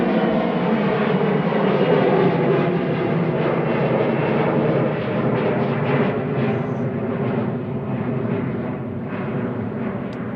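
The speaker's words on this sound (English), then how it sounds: "That's an Embraer E175 PHEXX" An Embraer E175 jet airliner at Manchester Airport, its engines giving a broad, steady roar that stays loud throughout and fades slightly near the end, with no talk.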